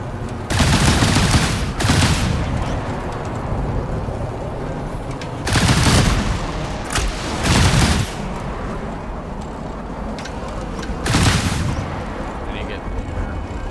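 Missiles launch in a video game in several loud, booming bursts, each a roaring blast lasting about a second, separated by stretches of rumbling background, with a voice speaking over the action.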